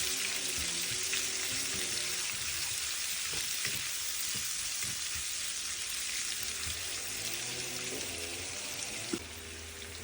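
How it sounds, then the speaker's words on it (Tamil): Onions and green chillies sauté in a pan for a Sri Lankan drumstick curry, giving a steady, close, even frying sizzle with occasional stirring scrapes and no talk. "மூன்று பச்சை மிளகாய் எல்லாத்தையும் நல்லா நாங்கள் வதக்குவோம்."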